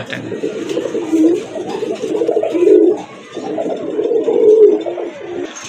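Pigeons at a pigeon farm, among them a golden and a white-and-black male, coo loudly and close by in repeated low, rolling phrases with short pauses between them.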